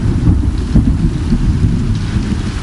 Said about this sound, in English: boy did it rain